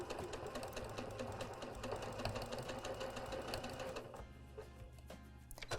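A Janome sewing machine stitches a seam with a quiet, steady rapid ticking and motor hum, then the rhythm shifts and slows near the end as the stitching winds down.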